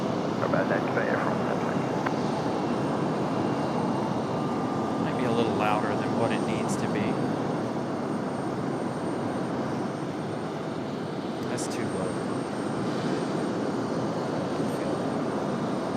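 Airliners departing Raleigh-Durham International Airport, a steady distant jet engine roar filling the background while someone talks over it.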